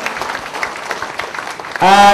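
An audience at a Buddhist Dhamma talk applauds a monk's answer with a brief, busy patter of clapping, cut off as a voice starts loudly speaking near the end.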